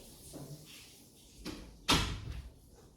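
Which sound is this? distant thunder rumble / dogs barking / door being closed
door being closed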